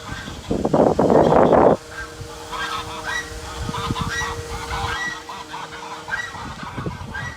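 Sebastopol geese on a farm give a loud burst of honking up close, then keep up scattered, overlapping calls and cackles at moderate level among other farm birds.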